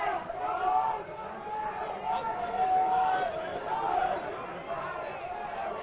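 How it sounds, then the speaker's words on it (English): Crowd at a Northern Territory Australian rules football match between Central Australia and Waratah, a steady wash of voices and cheering that swells and dips throughout, with a few sharper shouts rising above the din. "Crowd's starting to get vocal."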